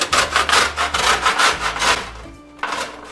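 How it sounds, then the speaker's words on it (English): Lemon being grated for zest: close, rhythmic rasping strokes, about eight quick scrapes in a row, followed by a brief pause and a final scrape. "Then we also have to grate a lemon to get some zest"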